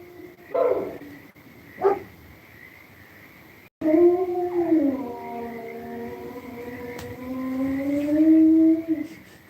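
Two short barks come from a dog, then it lets out a long, wavering howl that carries on for several seconds, close and fairly loud.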